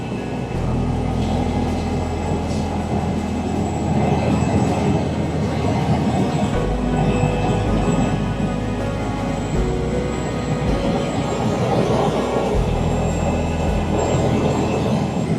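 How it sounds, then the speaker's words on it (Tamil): A small plane lands on a glacier in Denali, Alaska, heard as a loud continuous engine drone with low rumbling and a faint high whine, close and steady, with no voices. "கிளேஷியரில் லேண்ட் பண்ண போகிறோம்."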